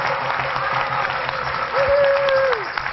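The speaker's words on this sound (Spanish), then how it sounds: "aplauso para el campeón" Crowd applause for a champion at a music festival event, a continuous, fairly loud wash of clapping with a voice rising briefly over it midway.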